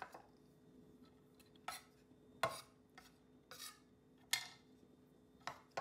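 Grated cheese being scraped and moved into another bowl while making nacho cheese sauce, heard as a handful of sharp utensil clinks and scrapes against dishware spaced out over a quiet kitchen background with a low hum.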